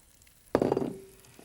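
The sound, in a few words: clams sizzling in sunflower oil in a pan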